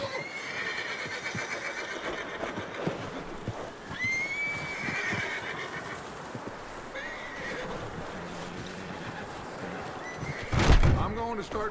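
Horses in the video game Red Dead Redemption 2 neigh and whinny over a rustling outdoor backdrop, with hooves clopping and a heavy thump near the end.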